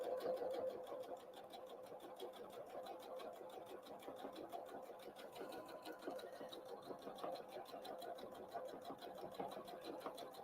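A sewing machine runs steadily, stitching Christmas tree napkins with a fast, even mechanical chatter that holds close and continuous throughout, moderately quiet.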